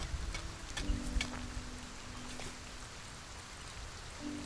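Steady rain pattering in a farming video game, a soft continuous hiss with scattered light ticks of drops, fairly faint and with no one talking.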